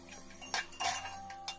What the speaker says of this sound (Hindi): प्याज को हल्का सा स्टर करते रहेंगे